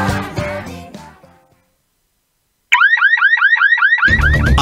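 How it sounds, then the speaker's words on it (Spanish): Alarm sound effect in a radio advertisement: music fades into silence, then a loud, rapid, repeating electronic warble sounds alone before music returns underneath. "Ahora sí, una alarma a la medida de su propiedad."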